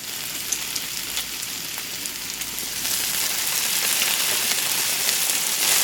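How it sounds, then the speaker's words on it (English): Fish fries in hot cooking oil in a pot, giving a steady, dense crackling sizzle that grows a little louder partway through, close and without any voices. "the sound of the sizzling oil is so satisfying."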